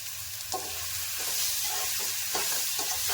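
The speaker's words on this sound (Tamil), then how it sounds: "நல்லா வதக்கணும். கொஞ்ச நாள் நல்லா வதக்கிட்டு வரணும்." Mango rice ingredients sautéing in a pan with salt, a steady sizzle under repeated scraping stir strokes, close and moderately loud, no talking.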